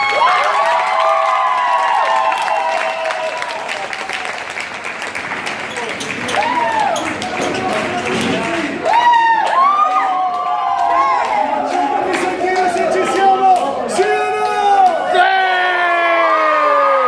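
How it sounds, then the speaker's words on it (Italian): A lively Italian crowd applauds and cheers loudly for a performer, with whoops and shouts rising over the clapping and excited voices calling out near the microphone, building toward the end. "Ragazzi, un grossissimo applauso a Gianluca!"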